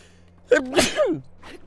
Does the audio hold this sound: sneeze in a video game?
yes